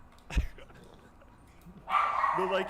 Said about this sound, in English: Just ignore my dogs